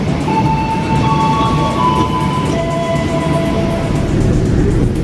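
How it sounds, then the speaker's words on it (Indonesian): A steady rumble and hum from inside a moving KRL commuter electric train near Yogyakarta, Indonesia, with faint whining electrical tones drifting up and down over the ride noise. "Nah ini suasana di KRL menuju stasiun Prambanan"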